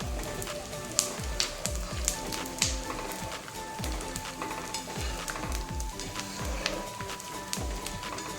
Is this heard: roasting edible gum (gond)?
yes